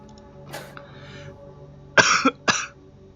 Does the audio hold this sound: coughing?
yes